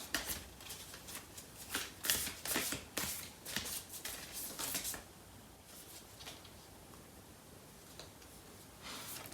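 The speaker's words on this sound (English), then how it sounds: "I'm gonna pull out a card from the Lovers Oracle deck for this reading" Cards from a Lovers Oracle deck are shuffled and drawn, a run of crisp riffling and flicking bursts up close, busier at first and then settling into softer, sparser rustles.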